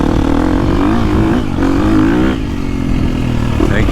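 A 350cc dirt bike, one of a 2023 KTM 350SXF, 2022 Gas Gas MC350 or 2021 KTM 350XCF, revs while being ridden, its engine loud and close as the pitch rises and falls with the throttle.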